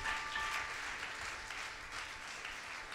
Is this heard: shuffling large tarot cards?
no